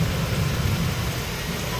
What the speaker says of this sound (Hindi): इतने ज़ोर से बारिश हो रही है